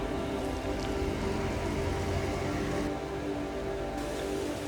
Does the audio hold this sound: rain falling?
yes